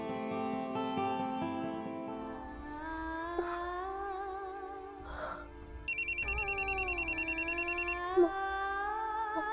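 A telephone rings in short repeated bursts for about two seconds over soft background music in a TV drama scene.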